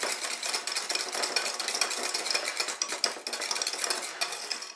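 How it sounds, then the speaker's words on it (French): Brownie-style cupcake batter is stirred steadily in a bowl, making continuous close scraping and clinking of a utensil against the bowl at an even, moderate loudness, with no talking. "On mélange une fois de plus."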